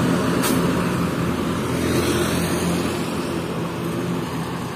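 A Hino RN bus passes close by at a bus terminal area. Its engine makes a loud, steady rumbling drone that holds for several seconds and eases slightly near the end, with a brief hiss early on and no speech.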